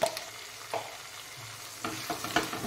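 Chili, turmeric and cumin powders are stirred into chitol (knife fish) curry in a hot pan, giving a few short scraping, sizzling bursts close by, with no speech.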